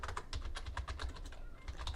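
Rapid, uneven clicking of keys on a computer keyboard, close and steady over two seconds with no voices.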